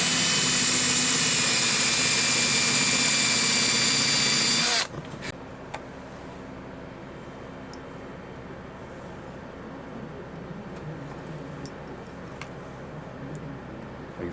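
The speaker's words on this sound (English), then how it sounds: "Dull drill bit." A power drill fitted with a dull bit runs loud and steady at close range for several seconds, then cuts off, leaving quiet workshop ambience with a few faint clicks.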